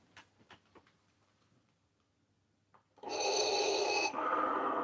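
A Darth Vader mask's built-in breathing effect plays a loud, hissing mechanical exhale-inhale cycle after a button press, preceded by faint clicks and handling sounds, heard close and alone without talk.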